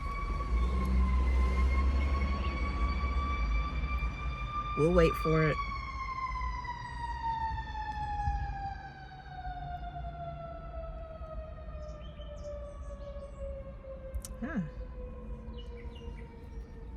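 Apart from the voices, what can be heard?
emergency siren passing by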